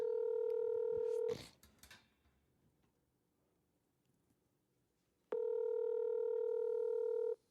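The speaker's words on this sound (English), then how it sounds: "now it's ringing now. It's finally ringing." A telephone ringback tone on an outgoing call, two long steady electronic rings separated by a silent pause, loud and clean, with a brief clattering handling noise just after the first ring.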